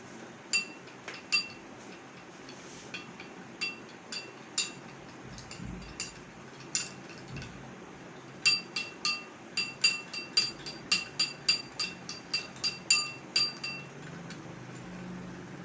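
A spoon clinks against a bowl while rice face mask is stirred with milk. Light, repeated taps come in a quick run toward the end.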